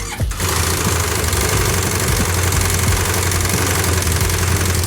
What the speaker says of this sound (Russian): Мы сейчас будем запускать мотор.